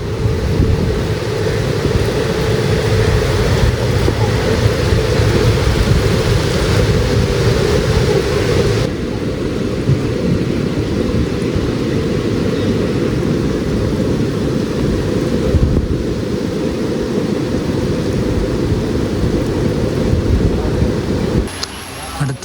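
Steady heavy rain roars loudly throughout, heard aboard a train near Kulukkallur railway station on the Shoranur–Nilambur line in Kerala, a dense continuous wash with a deep low rumble beneath it, cutting off abruptly at the end.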